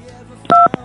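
A telephone keypad tone sounds as the pound key is pressed: one loud two-tone beep lasting a fraction of a second, followed by a brief click-like blip, with no other sound around it.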